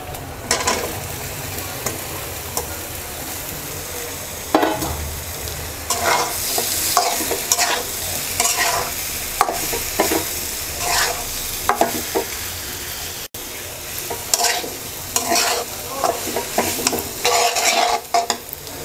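Olives for a sweet-and-spicy Bangladeshi pickle being stirred through sizzling spice masala, with a steady frying hiss and repeated scraping stirs from a spoon, heard up close with no talking.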